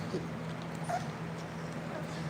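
Puppies whimpering softly in a small whiny yelp, heard over a steady background hum and noise, with a person's voice nearby.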